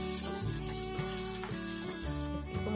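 Chopped jalapeño chile sizzles loudly in a hot pan, a steady close frying hiss with stirring, with no voices over it.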